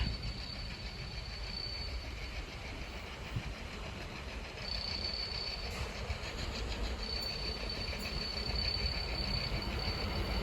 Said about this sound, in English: The next train to pass by is going to be a GBRF Class 66 from London Gateway GBRF to Hams Hall GBRF.